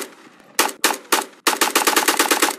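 An AK rifle fires at night: a few single loud cracks followed by a rapid fully automatic burst of about a dozen rounds, close and sharp.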